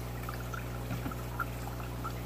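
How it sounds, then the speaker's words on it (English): Water pours through a coffee filter holding brine shrimp, a steady trickling stream over a constant low hum, with no voices. "pouring down the coffee filter, and the brine shrimp stay in the coffee filter and the water goes down"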